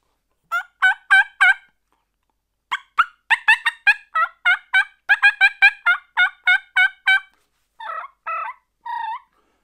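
A turkey mouth call imitates a hen turkey in clear, loud bursts of short yelps, first in a group of four, then a longer fast run, ending with three raspier notes, with silence between phrases.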